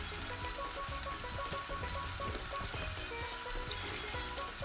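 Crab sautéing in a pan over medium heat, a steady dense crackle and sizzle with fine spattering pops, continuous and close.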